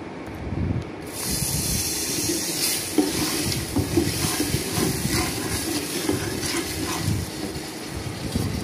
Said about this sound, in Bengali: তারপরে এর মধ্যে আমি মাছগুলো দিয়ে ভালো মতো কষিয়ে নিচ্ছি।